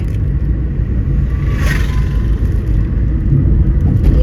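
A family car drives along the road on a trip to the Ghati Subramanya temple, heard as a steady, close, low rumble of the cabin and engine with a brief faint whir partway through.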